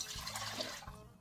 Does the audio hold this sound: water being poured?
yes